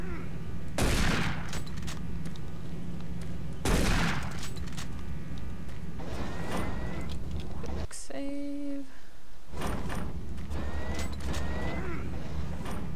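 Shotgun blasts in the video game Doom 3, two loud sharp shots a few seconds apart over a humming ambient background, with later fainter bangs and game sounds.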